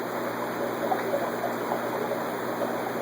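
Water pours steadily into a plastic shipping bag holding a 1.5-inch red shoulder African cichlid, a continuous splashing gush with no talk over it.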